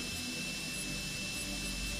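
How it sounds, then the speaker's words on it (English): A high-speed engraving handpiece with a small carbide point stipples a metal surface, a continuous dense buzzing hiss held at an even, close, loud level throughout. "That surface is then stippled. You're basically using a little carbide point"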